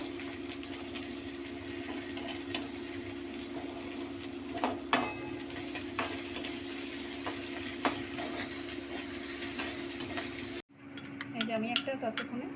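Garlic paste fries in a pan with a steady hiss and occasional utensil scrapes. Partway through the sizzle cuts out and quieter clinks follow.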